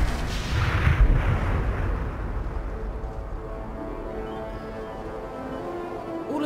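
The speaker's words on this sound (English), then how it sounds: "something detonated in the proximity" In the Hitman video game, a deep explosion booms and rumbles, then fades into a lingering low roar and debris noise over several seconds.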